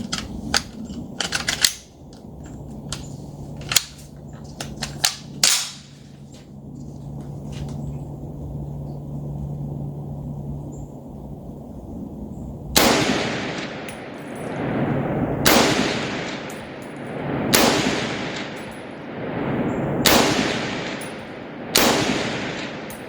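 M1 Garand rifle firing, several sharp loud shots with gaps between, first a few scattered reports then a steady series of evenly spaced blasts with ringing decay.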